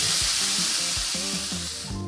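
Vegetables stir-fry in a pan with a bright, continuous sizzle and hiss, punctuated by rhythmic scraping and clanking of a utensil against the pan throughout.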